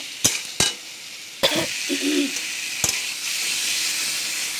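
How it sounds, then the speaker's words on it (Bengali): Potatoes with turmeric sauté in hot oil for a rohu fish curry, giving a steady soft sizzle with a few sharp spatula scrapes and knocks against the pan near the start and once later. "হলুদ দিয়ে দিচ্ছি ভালো করে কষিয়ে নেব"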